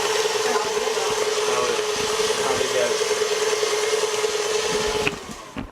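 An electric mixer beats eggs with caster sugar for a flourless, butterless lemon and rosemary cake, a steady loud whirring drone that holds evenly for about five seconds before cutting off abruptly.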